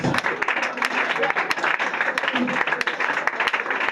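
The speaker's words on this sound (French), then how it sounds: "Acclame le plus." A church congregation at a prophecy and deliverance service applauds and cheers in a dense, continuous wash of clapping, with voices shouting and talking through it.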